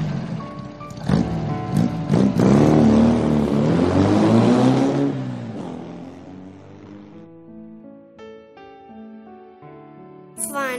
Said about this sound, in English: When the car starts